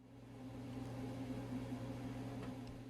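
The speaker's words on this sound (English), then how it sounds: "I love hearing the jiggler and being able to hear if the pressure is getting too low." Pressure canner weight jiggling at about 12 pounds while quarts of potato fries process, a faint, steady hum with a low tonal drone and soft, irregular rattling ticks.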